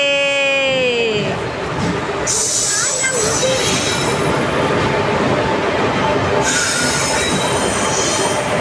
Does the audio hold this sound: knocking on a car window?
no